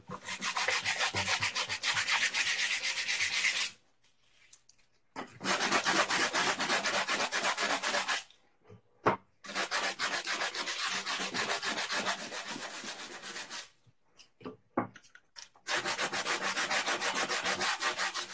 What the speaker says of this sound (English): I bought this for that palm sander